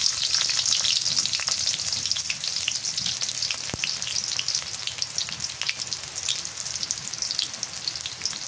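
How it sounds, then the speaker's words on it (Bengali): Sliced onion frying in hot mustard oil blended with soybean oil, a dense, steady crackling sizzle that runs loud and close, unbroken by any voice. "তেলটা গরম হচ্ছে, পেঁয়াজ দিয়ে দিবেন।"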